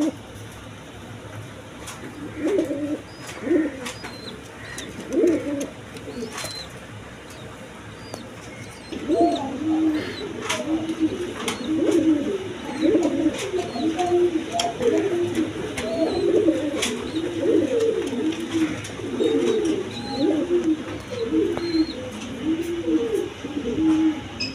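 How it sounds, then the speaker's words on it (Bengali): A pair of magpie pigeons coo with repeated low, throaty rolling calls nearby, sparse at first and then continuous and rhythmic through the second half, over faint background noise. "এখানে এক পেয়ার ম্যাকপাই আছে, আপনারা চাইলে এটা নিতে পারেন। ম্যাকপাই জোড়াটা ছটপড়া কবুতর দেখেন"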